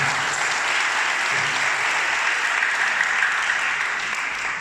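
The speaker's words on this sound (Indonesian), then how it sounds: "Berikan aplaus" An audience claps throughout a religious-moderation talk show, a dense, sustained roar of applause from a crowd that holds steady and loud for the whole stretch.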